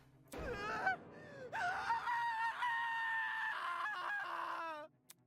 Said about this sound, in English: Kai's scream rang loud and clear in my ears.